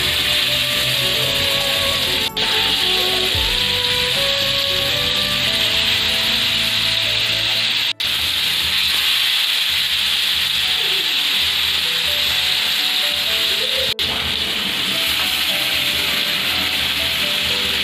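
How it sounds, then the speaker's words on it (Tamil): Vanjiram fish slices frying in hot oil in a pan, a steady dense sizzle and crackle running throughout with a few sharp clicks, close and fairly loud with no talking. "எண்ணெய் நல்லா ஹீட் ஆனதுக்கப்புறம் ரெடி பண்ணி வச்சுருக்கிற மீன் எடுத்து போடலாம்."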